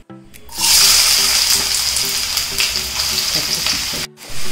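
Onions, green chillies and curry leaves hit hot oil in a pan and sizzle loudly, the frying starting abruptly, then holding a steady close hiss with brief stirring noises.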